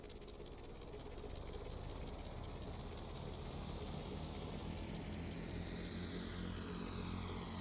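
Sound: aircraft engine of a plane flying in a video game

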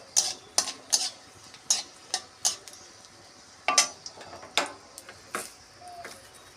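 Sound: dried red chilli, bay leaf and nigella tempering in hot oil

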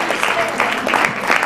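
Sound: audience applause

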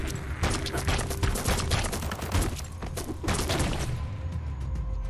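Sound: gunfire in video game Biomutant

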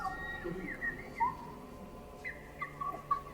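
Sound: bird singing in the video game Split Fiction

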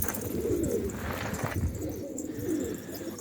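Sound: pigeons cooing

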